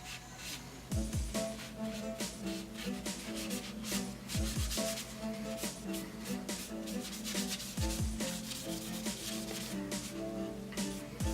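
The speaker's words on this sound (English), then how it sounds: "I can probably sand some of that back off also." Rhythmic scraping of sandpaper sanding stain off a wooden guitar headstock, repeated strokes with a few sharper scuffs, steady and close.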